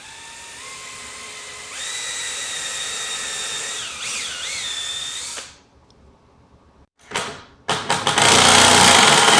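A power drill driving structural screws into a clamped metal hinge on a recycled-lumber solar panel frame, a loud steady whine that climbs in pitch, stops briefly, then restarts in short bursts and a final run.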